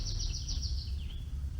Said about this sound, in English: They sing kind of like a finch